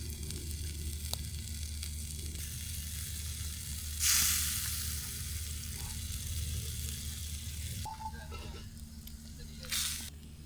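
Steady sizzling of fish frying in a pan with a little turmeric, with a couple of brief louder hisses and soft clatter as the fish is moved around.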